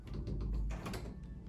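Closet double doors in a prefab mobile home being opened, a short burst of thumps and sliding rattles, close and fairly loud.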